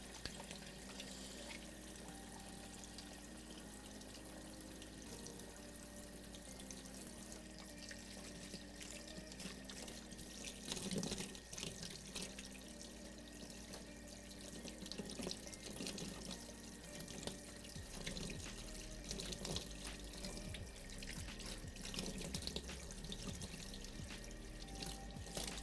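Dishes are washed up under a running tap in a kitchen sink, a fairly quiet, ongoing trickle and pour of water with occasional clinks and splashes against a low background hum.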